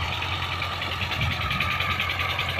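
A tractor engine idles steadily before rotavating a field, giving an even mid-to-low mechanical hum with a faint rhythmic pulse, close and continuous with no talk over it.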